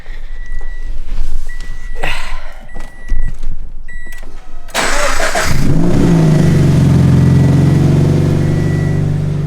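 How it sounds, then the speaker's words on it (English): A Subaru BRZ after an oil change: a few clicks and mechanical noises, then the engine cranks and fires up loudly and settles into a steady, close idle. "I like to keep my car running for a couple minutes just so you can kind of cycle the new oil throughout the motor"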